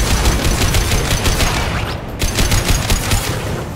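A heavy weapon fires in the video game Mass Effect 2, a loud sustained barrage of rapid blasts that briefly drops off before resuming with force.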